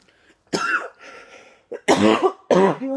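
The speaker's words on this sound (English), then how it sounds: "I cannot get rid of my cough no matter what I do" A woman coughs three times in short harsh bursts, with a throaty clearing in between, close to the microphone and without speech.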